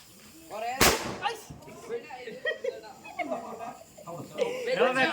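A single loud firecracker bursts sharply near the start of a Vishu celebration, followed by people talking throughout.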